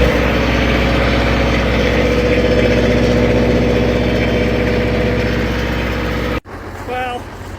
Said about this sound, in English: so fire up the compressor